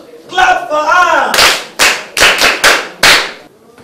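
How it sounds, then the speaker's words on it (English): A group of people in a Nigerian classroom scene break into several short bursts of loud, sharp clapping right after a brief spoken exchange, each burst separated by short gaps. "Clap for her."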